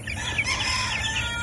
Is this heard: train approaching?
no